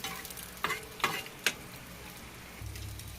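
Scrambled egg podimas frying in a pan, with a steady soft sizzle and a few sharp spatula scrapes while it is stirred and chopped, and a low hum near the end.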